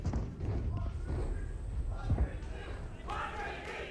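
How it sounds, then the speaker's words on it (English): An esports crowd at a Valorant VCT Americas match cheering and roaring in an arena, with a broadcast commentator talking over the noise and thumps mixed in. "And the crowd once again comes to life."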